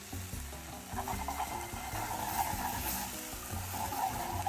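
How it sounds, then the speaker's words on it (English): Flour being whisked into butter in a pan to form a roux for a copycat Alfredo sauce, a steady close sizzle with the busy scrape and rattle of the whisk going on without pause. "now we're gonna whisk in 2 tablespoons of flour"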